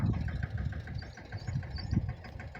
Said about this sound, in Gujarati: અને ભાઈ આપણે આવી ગયું છે ટ્રેક્ટર